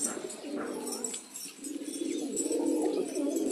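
Pigeon cooing, a healthy bird recovered after medication, close by in a steady low repeated coo that fills the whole stretch with faint background ambience.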